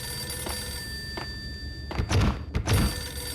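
A telephone rings twice in the 2001 video game Max Payne, each ring a short bright trill, amid a low tonal game ambience and dull thumps.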